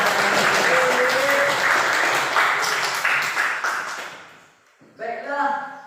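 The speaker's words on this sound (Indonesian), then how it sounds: "Berikan tepuk tangan." A classroom group claps together in loud, dense applause that fades out over several seconds, after which a voice starts speaking.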